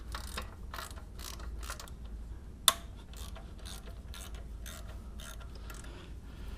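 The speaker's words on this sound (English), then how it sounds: "So we loosen up first these two bracket bolts." A ratchet wrench clicks steadily while loosening bracket bolts on a 1997-2001 Toyota Camry 5S-FE engine, a continuous run of close mechanical ticks with one sharp metallic clink partway through.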